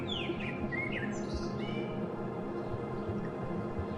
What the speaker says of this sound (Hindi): और पक्षियों की कोमल ध्वनि है।